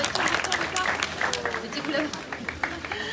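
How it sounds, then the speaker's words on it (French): An audience applauds a pageant contestant, Victoire Barinka, with brisk, continuous clapping. Talk carries on over the applause. "Vous pouvez l'applaudir très fort"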